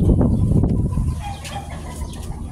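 Chickens cluck and call nearby, with a brief burst of activity early on, then quieter scattered clucks.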